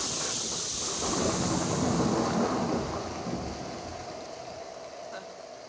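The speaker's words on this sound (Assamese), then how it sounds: "শিল বৰষুণ" A hailstorm with heavy rain and thunder roars as a dense, continuous rushing noise, loud and close, swelling then easing slightly, with a low rumble beneath.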